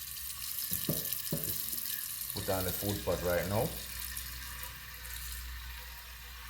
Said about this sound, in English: I get on a food pot and I get some water in the pot.